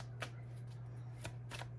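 Tarot cards shuffled quickly in a few crisp riffling bursts over a steady low hum, with no talking.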